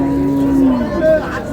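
A milk cow or calf moos once at a rural cattle market in Dinajpur, a single close, drawn-out low call that trails off amid faint market background noise.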